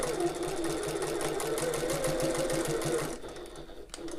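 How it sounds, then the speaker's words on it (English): A sewing machine stitching fabric for a tote bag, running with a loud, fast, even mechanical whir before slowing and stopping near the end. "Just gonna maneuver that into place as I'm sewing."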